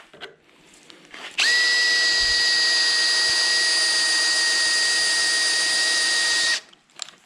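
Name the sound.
step drill bit drilling mild steel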